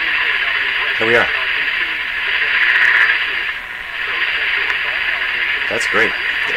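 A vintage Canadian General Electric JK-53 tube radio tuned to a station plays steadily under a broad hiss, with short bursts of a voice breaking through near the start and end.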